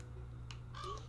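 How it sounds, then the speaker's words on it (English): A crow caws a couple of times in the farming game Stardew Valley, short harsh calls standing out over a steady low background hum with no talking. "Oh, the bird took it!"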